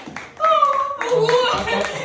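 Sparse applause from an audience in a concert hall in Zhytomyr, Ukraine, a few light claps under a voice speaking.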